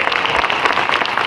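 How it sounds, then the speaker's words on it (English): Audience applause fills a 2018 National Congress of American Indians gathering, a dense, steady wash of clapping from a large crowd with no voice over it. "Give Larry a round of applause, please."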